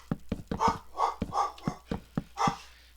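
A dog barks in quick bursts, around ten sharp yips and barks at an uneven pace, close and fairly loud, with no talking over it.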